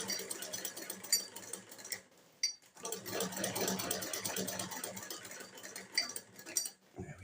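A sewing machine stitches fabric for a bushcraft trapper hat, running in a steady rapid whir with a brief pause midway, close up, with faint background clatter.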